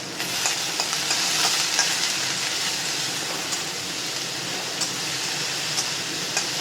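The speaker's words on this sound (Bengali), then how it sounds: "এখন ভালো করে একটু নেড়ে চেড়ে নেব।" Bitter gourd and potato with salt and turmeric sizzle in hot oil as they are stirred, a close, continuous frying hiss with light scraping and no talk.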